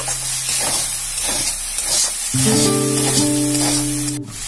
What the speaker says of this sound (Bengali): ভালো করে এটা নাড়াচাড়া করে নেব।